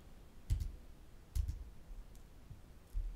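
A computer mouse clicking while editing a Joomla website module: several sharp, close clicks, some in quick pairs, spaced irregularly over a quiet background.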